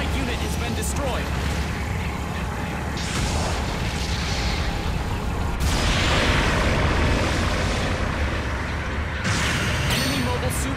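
A destroyed mobile suit blows up in a video game, a loud boom bursting out over mechanical game noise, with further booming swells and a voice speaking over the mix.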